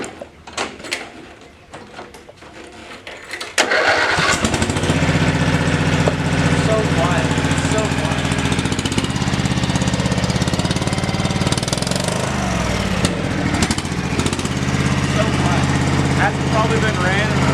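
A riding trail mower engine kicks in after a few seconds of clatter and then runs steadily and loudly, a continuous near drone that holds to the end.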